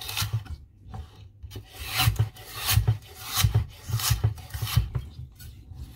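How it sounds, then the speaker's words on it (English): A knife chops celery strips finely on a cutting board, giving a close series of quick irregular thuds and scraping cuts in short bursts, with no voices. "Then chop the strips and chop it as finely as possible."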